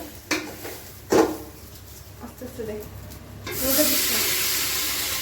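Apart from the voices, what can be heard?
water being poured onto fried rice in a pot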